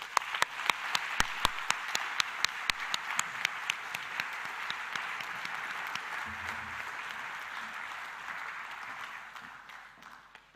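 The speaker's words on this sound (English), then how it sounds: "let's give another round of applause to Antonio Luma" An audience applauds at a conference opening session, a steady wash of many hands clapping with a few sharp individual claps standing out, fading away near the end.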